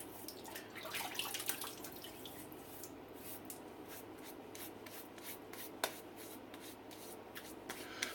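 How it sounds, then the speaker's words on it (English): Light water splashes and drips while a face is wetted by hand before a shave with a Cooper razor, faint close-up patters and small splashes over a steady background hiss, no talking. "So we're just going to go ahead and wet the face here."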